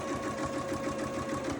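A sewing machine runs steadily, stitching quilt flying geese blocks with a 1/4 inch foot, a close, continuous rapid mechanical whirr and needle patter with no talking.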